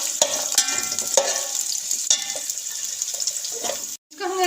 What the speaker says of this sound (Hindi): इसको हम हल्का सा सौते करेंगे।